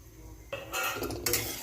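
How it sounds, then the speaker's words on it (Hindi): Vermicelli (sevai) frying in a pan during home dinner cooking, heard as metallic stirring and clattering of utensil against pan that grows louder after a quiet start, with bursts of scraping and sizzle-like hiss. "तो यहाँ पे मैं सेवई फ्राई कर रही हूँ एक तरफ"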